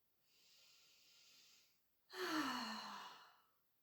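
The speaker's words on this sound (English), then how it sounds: "And take a deep breath." A single deep breath: a soft, steady inhale lasting about two seconds, then a short pause and a louder, fuller exhale sighing out over roughly a second and a half, close and quiet, with no talking.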